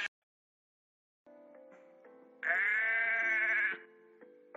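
A goat on a farm lets out one loud, drawn-out bleat lasting about a second, after quieter steady tonal sounds and before a brief return to them; no one speaks.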